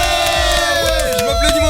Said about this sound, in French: Je m'applaudis moi-même, c'est incroyable.